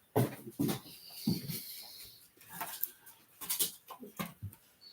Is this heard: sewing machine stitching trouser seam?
no